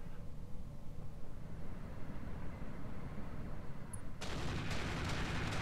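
Gunfire in the mech combat game Roguetech: a low rumbling battle bed for about four seconds, then a sudden loud burst of sharp, crackling shots near the end.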